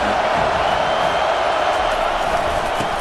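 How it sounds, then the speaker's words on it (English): Stadium crowd roar from a college football video game, USC visiting the Vols, a steady, loud wash of cheering noise filling the whole stretch without pause. "This crowd bringing an ear-splitting welcome to their visitors."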